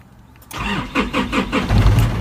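A car engine cranks and catches after a push-button start with the brake pressed, then settles into a low idle with slight revving, close by and alone.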